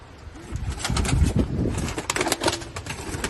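Pigeons coo inside a coop in Afyonkarahisar, soft repeated throaty calls close by over a steady background rustle, with no voices.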